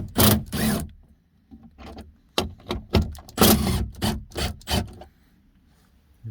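Bolts on the door of a 1999–2004 Jeep Grand Cherokee are loosened with a hand tool during a window regulator replacement, producing close, sharp bursts of rasping, ratchet-like clicking in uneven groups separated by short pauses.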